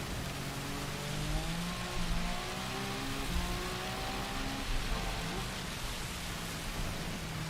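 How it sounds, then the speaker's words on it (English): Heavy rain during a Gran Turismo 7 race at Le Mans hisses steadily throughout, with car engine tones droning beneath the dense wash of noise. "Listen to that rain."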